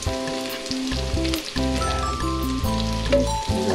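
Garlic frying in a pan, a loud continuous sizzle and crackle with occasional stirring clatter, heard up close without talk.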